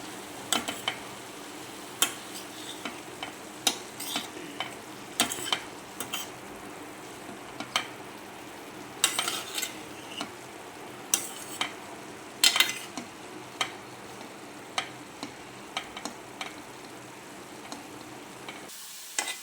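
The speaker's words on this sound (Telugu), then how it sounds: "కొంచెం కొత్తిమీర కూడా వేసి ఒక్కసారి తిప్పుకొని" Sweet potato and chicken salad with coriander is stirred in a pan. Low sizzling is broken by frequent sharp scrapes and clicks of a utensil against the pan, near and irregular, with no talking.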